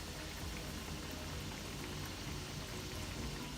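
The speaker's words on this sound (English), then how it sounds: "while we're waiting on our tostones to finish frying up" Tostones, slices of plantain, frying in hot oil, giving a dense, even sizzle and crackle that holds steady at a moderate level the whole time, with no voices.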